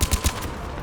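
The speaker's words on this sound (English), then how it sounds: "Oh, that was a terrible shot." Gunfire in Mass Effect 3: three quick, punchy shots in a short rapid burst, followed by a brief fading tail.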